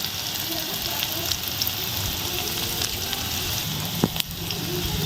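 A fish omelette mixture with turmeric and salt fries in a pan, giving a dense, even sizzle with light stirring and a brief scrape or clack partway through.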